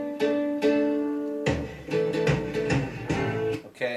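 An acoustic guitar in A plays the intro to a song: a few ringing strummed chords, then a quicker run of plucked notes and slides, fairly quiet and close, with no talk.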